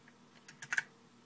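Quick clicks from a clicky retro computer keyboard on an Apple Pi setup, four or five crisp keystrokes bunched together near the middle, fairly faint against a quiet room hum.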